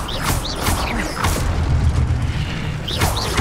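Incendio fire spell cast in the Hogwarts Legacy video game, a series of whooshing magical bursts and crackling impacts over a low rumbling game background, repeating several times at close range.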